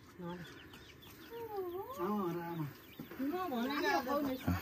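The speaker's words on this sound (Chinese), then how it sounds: "这有土鸡了。" Free-range country chickens on a hillside farm clucking and calling nearby, a run of rising and falling warbled clucks, with people talking among the birds.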